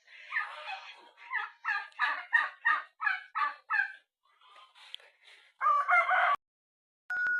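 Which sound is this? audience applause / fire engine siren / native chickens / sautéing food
native chickens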